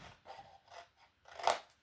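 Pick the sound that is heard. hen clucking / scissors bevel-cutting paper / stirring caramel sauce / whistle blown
scissors bevel-cutting paper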